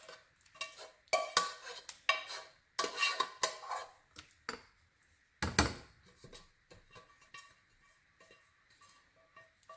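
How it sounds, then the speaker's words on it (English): A utensil scrapes and clanks against metal pans while stirred yogurt sauce is moved from one pan into another, giving repeated close scraping strokes with clinking between pauses. "transfer it into another pan and try and get as much of it out as possible"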